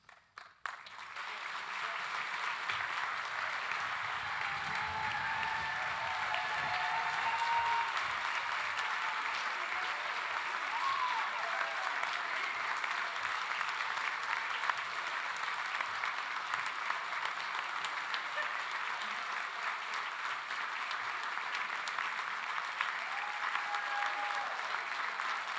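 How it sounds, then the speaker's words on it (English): Sustained applause fills a graduation ceremony hall in the evening, a dense steady wash of many hands clapping from a sizable audience that holds for over twenty seconds before easing slightly. "Good level of applause for this time of night."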